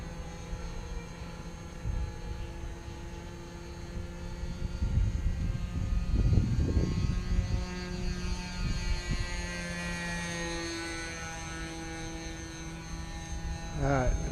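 Whittman Tailwind RC model airplane droning on the flying field, a steady engine hum that swells around the middle and passes with faint Doppler sweeps, moderately distant and alone.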